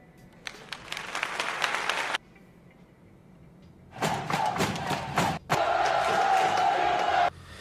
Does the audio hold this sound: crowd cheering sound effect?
yes